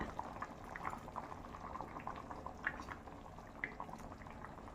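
Soft, continuous bubbling of curry boiling in a pot, with small irregular pops and blips, quiet and close, no voices.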